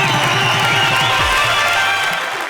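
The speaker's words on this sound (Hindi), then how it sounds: "इनके लिए एक बार जरा जोरदार तालियां।" Studio audience at a Hindi comedy poetry show claps loudly and continuously, a dense, even wall of applause with low thumping underneath that tapers slightly at the end.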